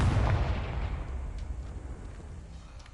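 A fiery blasting spell explodes in Hogwarts Legacy, giving one close, deep boom at the start that rumbles and fades away over the next few seconds.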